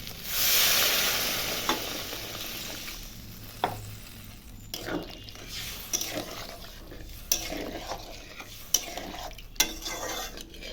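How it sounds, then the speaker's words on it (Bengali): Hot water poured over spice-fried potatoes for a fish and aubergine curry, a rushing pour and hiss at first, then quieter bubbling with scattered spoon and pot clinks, close and without talk. "এখন গরম জল করে রেখেছিলাম দিয়ে দিচ্ছি"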